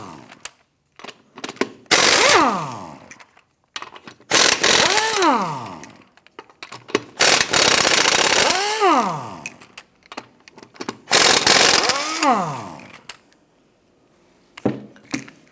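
Lug nuts come off a wheel of a 2008-2013 Nissan Rogue in four loud, close bursts of a whirring power tool. Each burst rises and falls in pitch, with quiet gaps and small clanks between them.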